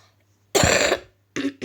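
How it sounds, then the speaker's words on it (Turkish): A single harsh, loud cough from a sick person close up, then two shorter bursts of coughing after a pause. "Ondan dolayı bayağı öksürüyorum."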